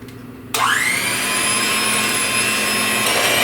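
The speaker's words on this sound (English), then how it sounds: "Just going to put my mixer on low and give it a little twirl." An electric hand mixer set to low starts abruptly and keeps up a steady, fairly loud whir as it blends pumpkin ricotta cake batter, running alone without talk.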